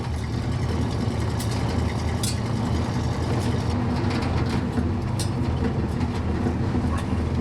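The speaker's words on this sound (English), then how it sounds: "Today we are in my frame-off restored 1969 Chevrolet C10 short wheelbase pickup with a small block Chevrolet V8 and an overdrive transmission" A frame-off restored 1969 Chevrolet C10 short wheelbase pickup with a small block Chevrolet V8 and overdrive transmission drives along with a steady, loud low rumble and road roar, heard from inside the cab, with a few faint clicks and rattles.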